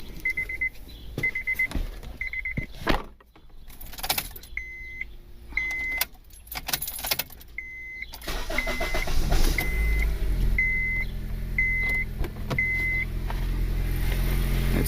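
A car being started and left running after a new O2 sensor install, with electronic chimes beeping at intervals before a steady idling engine rumble fills the second half.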